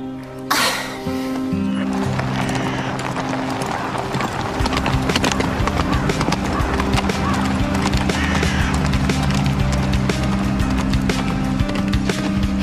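Hooves clip-clop in a steady rhythm close by, with a horse whinnying near the start before the hoofbeats carry on.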